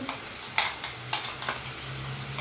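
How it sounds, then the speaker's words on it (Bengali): A spice paste with salt, turmeric and chili powder is stir-fried in a pan for prawn khichuri, making a constant hiss with a few sharp scraping strokes, close up and with no talking. "আগে মশলাটা ভালো করে একটু কষিয়ে নিই"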